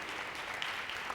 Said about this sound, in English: A very warm round of applause for the people